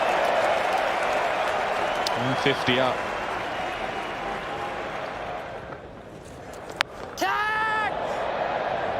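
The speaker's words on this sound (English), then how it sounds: "a huge cheer from the Lord's crowd" A large Lord's cricket crowd roars and applauds steadily after a boundary, a dense wash of cheering throughout, with a commentator's voice briefly over it.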